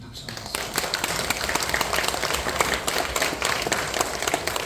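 A church congregation at a third worship service claps warmly for the deaconesses who served meals, dense steady applause filling the hall, with crowd voices mixed in.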